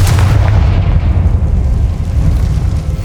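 Confringo fire spell blast in Hogwarts Legacy, cast in a decaying catacomb: a loud, sustained booming rumble with heavy low end, rolling continuously without a pause and no voices over it.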